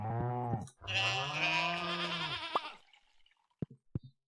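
A sheep gives a few loud, close wavering bleats in quick succession, followed by several short sharp knocks or drips in quieter surroundings.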